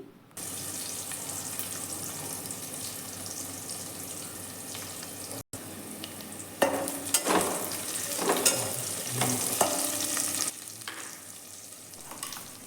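Turmeric powder and spices fry in a pan for a village-style greens bassaru, a steady close sizzle with a brief break, then louder scraping stirs in the second half.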